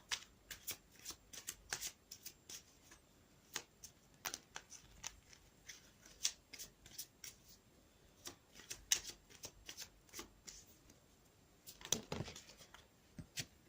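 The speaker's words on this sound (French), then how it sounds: "je vais battre les cartes et je vais demander une carte pour les énergies générales pour le début de semaine" A deck of cartomancy cards is shuffled by hand in a long run of crisp, irregular riffles and slaps, close and quiet with no talk.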